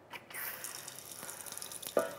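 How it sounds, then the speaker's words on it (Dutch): Hot, near-boiling water runs from a kitchen tap in a home cooking setting, a brief splashing gush with small splatters and a sharper clink near the end, no talk. "Ik ga hier warm water nemen."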